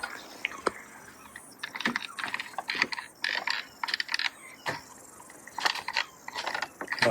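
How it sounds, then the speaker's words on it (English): A clamp is tightened onto wood during an entryway rebuild, with a series of irregular clicking, ratcheting and creaking mechanical sounds close by. "I'm just going to clamp that in."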